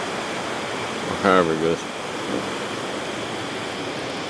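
A river flows with a steady, broadband wash of moving water throughout, while someone briefly speaks over it near the start.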